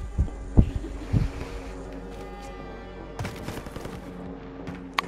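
Heartbeat sensor in a shooter video game, giving a few low thumping pulses early on, then fainter hum with sharp clicks and bursts later, fairly quiet overall.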